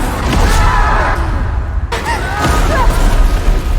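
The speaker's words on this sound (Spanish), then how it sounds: "piedras y piedras, explosiones." Explosions and falling rocks in a Game of Thrones scene of King's Landing being destroyed make a loud, continuous rumbling crash of booms and debris, with faint voices.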